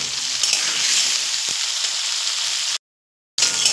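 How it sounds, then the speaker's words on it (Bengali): Ridge gourd and mixed vegetables with a little salt and turmeric fry hard over high flame, a steady hiss with faint stirring knocks, cut off by a brief silence before the sizzle resumes. "দিয়ে হাই ফ্লেমে কিন্তু সবজিটা ভাজবো, তা না হলে কিন্তু জল ছাড়বে"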